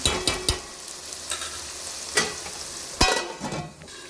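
Onions fried in a pan for a fish curry, stirred now and then with sharp spatula scrapes and clacks over a low steady sizzle, close by, no talking.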